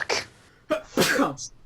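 A single sharp sneeze breaks out during a Rogue Trader tabletop role-playing session, set among short throaty bursts and brief vocal noises, close and fairly loud.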